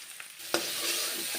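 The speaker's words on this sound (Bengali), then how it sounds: "লবণ হলুদ গুঁড়ো দিয়ে বরবটিগুলোকে বেশ ভালো করে ভেজে নিচ্ছি" Yardlong beans frying with salt and turmeric in a pan, a steady soft sizzle throughout with a single sharp clack of a stirring utensil near the start, no voices.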